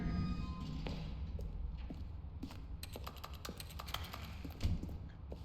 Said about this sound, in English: I like the clicking sound it makes whenever you click the mouse.